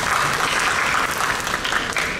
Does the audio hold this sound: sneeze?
no